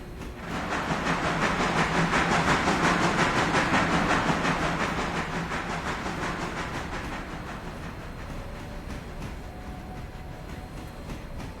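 Logging train in the video game Railroader, a steady rumbling run with rhythmic clicking of wheels and a faint hiss, moderately loud and continuous, without talk.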